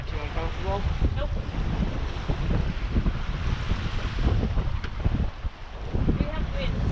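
Strong wind buffets the microphone aboard a sailboat running downwind, with steady rushing wind and water noise throughout and voices talking underneath.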